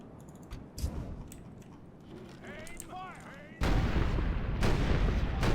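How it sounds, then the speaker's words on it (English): Artillery fires in the Total War: Warhammer video game, with a few sharp distant booms followed by a loud, sustained rumbling barrage. "Get a couple of shots of this artillery engagement"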